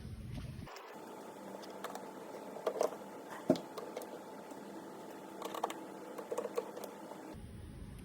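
Torx 25 screws being run out of a VW Polo tailgate panel with a power driver, heard as faint whirring and small clicks and knocks against steady background hiss, with no talk.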